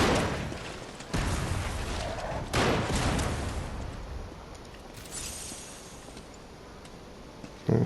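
Falcon Eyes weapon fire in the action game Lies of P, with loud, broad booming blasts near 1 and 2.5 seconds that trail into a lingering rumble. Softer crackling echoes follow.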